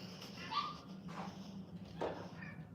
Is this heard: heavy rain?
no